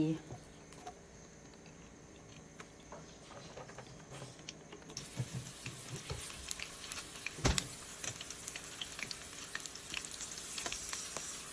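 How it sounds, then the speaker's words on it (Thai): Sun-dried fish fry in oil, a soft crackling sizzle that grows busier and brighter partway through, with scattered pops and light clattering close by, fairly quiet overall. "มาทอดปลาแป๊บเดียวก็สุกละ"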